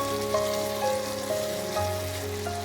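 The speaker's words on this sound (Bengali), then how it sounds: "একটুখানি আমি নেড়ে চেড়ে নিলাম দইটা দিয়ে," Tomato and yogurt fry in a pan for a chhana potol curry, a soft continuous sizzle under a steady tonal hum, with no voices.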